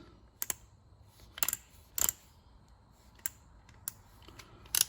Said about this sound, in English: And then torque this thing to 20 foot-pounds